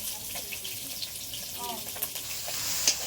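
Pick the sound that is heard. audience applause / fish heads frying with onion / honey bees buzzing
fish heads frying with onion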